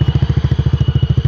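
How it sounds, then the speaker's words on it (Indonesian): A 2013 Yamaha Xeon RC scooter fitted with an AHM aftermarket exhaust idles steadily, its close, even low putter pulsing in a regular rhythm with no throttle applied and no talk over it. "ini suara idle-nya seperti ini."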